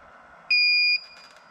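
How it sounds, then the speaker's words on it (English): An Aeliussine 2000W pure sine wave inverter sounds a single sharp, steady electronic beep of about half a second as its low-battery alarm, over a quiet background hum. "That's why it's making that alarm sound."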